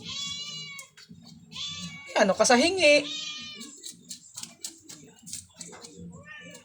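A cat lets out a loud, drawn-out meow up close, with a person talking before and after it.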